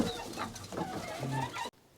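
Chickens cluck and squawk inside an aviary, a busy overlapping flurry of calls close by that stops abruptly near the end.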